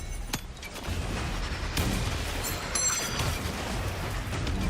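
An airstrike in Kingdom Come: Deliverance 2 lands as a continuous broadband rumble and roar with scattered sharp impacts, loud and sustained through the whole stretch, with no voices.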